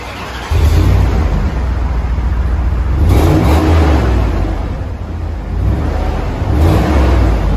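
A Dodge Dakota 4.7L V8 with its factory muffler, tailpipe and resonator removed and a manifold leak revs loudly through the exhaust, a steady deep rumble broken by several sharper throttle blips, close and alone.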